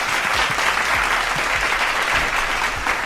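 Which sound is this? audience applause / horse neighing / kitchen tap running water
audience applause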